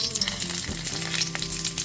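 Bay leaves, dried red chillies, whole cumin, cloves, cardamom and cinnamon crackle and sizzle steadily in hot oil, a close, continuous frying hiss with faint stirring scrapes under background music.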